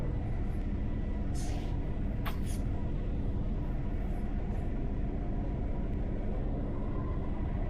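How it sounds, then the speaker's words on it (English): A tram rolls along on autopilot inside the Lone Echo II game, a steady low rumble and hum running the whole time, with brief higher hisses and a short squeal partway through, no voices. "The tram is on autopilot."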